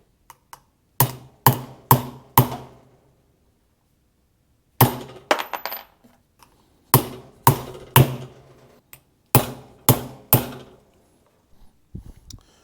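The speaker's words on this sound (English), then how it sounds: "I've had several hits with it and it didn't go through" A hammer strikes a cutter into a silicone air intake hose on a Ford ST150, delivering sharp hard taps in quick bursts of three to four, separated by pauses, close and loud against near silence.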